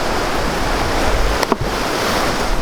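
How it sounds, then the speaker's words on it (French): A river flows beside an overnight campsite with a steady, dense rush of water that fills the whole clip. One brief sharp knock stands out midway, and no one speaks. "On est au bord d'une rivière, comme vous devez l'entendre."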